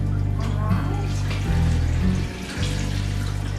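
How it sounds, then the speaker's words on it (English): Vinegar being poured into a pot for bread and butter pickle juice, a steady close liquid stream with a brief dip and gurgle near the end. "First, we're going to add 3 cups of vinegar."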